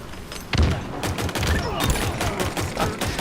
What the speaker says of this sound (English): Why can't I get a headshot on that guy?